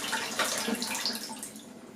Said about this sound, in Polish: Odleję wodę zimną tylko.